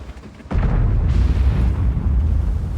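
A tank cannon fires in World of Tanks, a sudden heavy boom that jumps out of quieter game ambience and rolls on as a loud, sustained low rumble.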